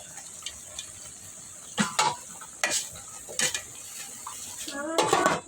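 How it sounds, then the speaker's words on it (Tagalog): Food boiling in a cooking pot is stirred, giving a few scattered scraping and clinking knocks of a utensil against the pot over a quiet bubbling background, fairly soft and close. "Haluin na natin para yung sa ibabaw"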